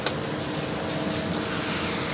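Heavy rain pours down over a parking area, a steady dense hiss of falling water that is loud and continuous throughout, with no voices.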